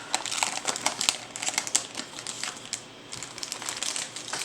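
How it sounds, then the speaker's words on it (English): An empty trading card foil pack for a Crystal Revenge card game is crumpled by hand in a steady run of crisp, crackling crinkles, close to the mic, with a short pause midway before a final burst. "Get rid of that. It's an empty package."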